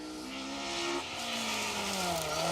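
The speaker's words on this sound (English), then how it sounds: "Car 258, that's the RS 1800." A Ford RS 1800 rally car racing through a Welsh rally championship stage on the Plains Rally, its engine roaring loud and close with rising revs and a gear change, plus faint tyre noise.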